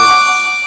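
A single bell sound effect rings out with a bright, sustained metallic tone that slowly fades, alone with no talk.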